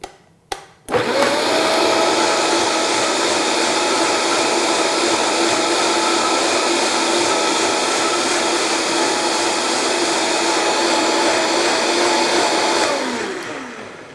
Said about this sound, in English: I've blended a little bit of it, and I'm just gonna finish it off right now.